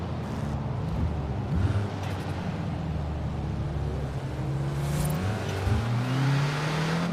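Car engine with audible turbo whine in Forza Horizon 5, revving up and down in a few sweeping pulls, loud and close, with no voices.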